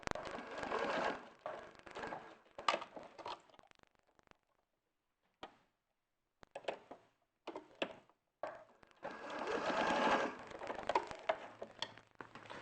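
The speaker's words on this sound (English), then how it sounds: "So you're just sewing up the shoulders and the sides" A sewing machine stitching up garment shoulders and side seams runs in several bursts of fast mechanical whirring and clatter, with quiet pauses between runs and no talking.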